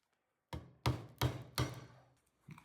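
Four sharp hammer blows land in steady succession, close by and fairly loud, each with a short dull ring, followed by a faint clink, as a rubber bushing is hammered into a rusty Toyota MR2 brake caliper.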